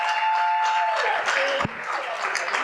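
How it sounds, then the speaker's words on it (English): Audience applause for a speaker taking the stage at a creative-writing workshop, a steady wash of clapping across the whole stretch with a brief thump partway through and faint voices mixed in. "Let's give my good friend a round of applause."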